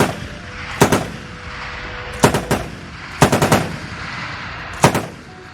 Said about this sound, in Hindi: छोटे हथियारों से गोलीबारी शुरू हुई है